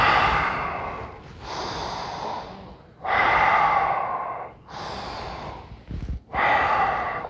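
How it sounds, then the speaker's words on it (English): Four slow, deliberate breaths in and out through the nose with a hand covering the mouth, each a loud rushing airflow close to the microphone, separated by brief pauses. "take your hand, put it over your mouth, breathe in and out with your nose 3 times."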